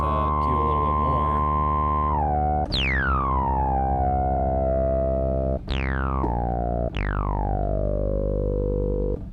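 A synthesizer tone runs through a sharp resonant filter with the resonance turned up, sustained and loud, with several swept notes whose ringing peaks glide downward and settle, alone without speech.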